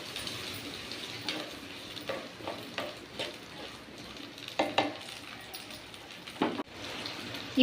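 Tomatoes and green chillies for a fish curry sauté in a pan with a soft, low sizzle, punctuated by irregular spoon scrapes and clinks against the metal, quiet and close, without speech.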